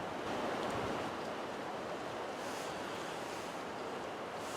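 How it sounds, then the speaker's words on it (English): Wind blows steadily outdoors at a camp tent site, a loud broadband rush with gusty swells buffeting close to the microphone. No voices are heard. "The wind's picking up and I just heard another tree fall."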